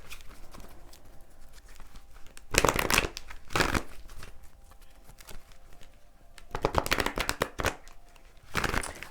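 Tarot cards are shuffled for a romance card draw in two pairs of short, rapid riffling bursts separated by quiet handling noise, close and fairly soft.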